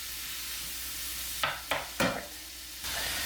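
Food fries in a pan with a steady bright sizzle, broken by three quick scraping or stirring strokes before the hiss settles back in, close and without talk.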